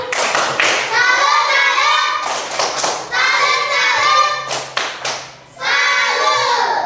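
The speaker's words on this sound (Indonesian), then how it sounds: "Tepuk tangan dulu untuk Aure. Tepuk salut." A class group performs a rhythmic salute clap for a classmate in a Catholic religion lesson, three loud bursts of patterned clapping with chanted voices, separated by brief pauses.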